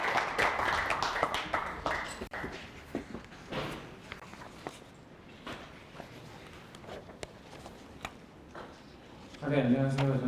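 Scattered, fairly faint clapping from a forum audience at Yonsei University welcoming the next presenter, with footsteps and taps in the room and a voice speaking at the end.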